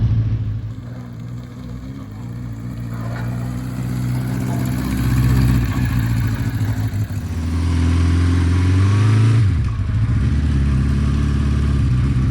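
A classic Honda CB350/4 four-cylinder motorcycle ridden slowly around a crowded yard gives a smooth, steady low engine rumble close by, rising and falling gently with light throttle changes.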